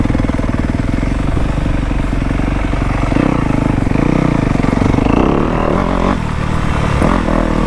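Dirt bike engines running in the woods, a loud, steady buzzing drone with revs rising and falling, close and continuous throughout.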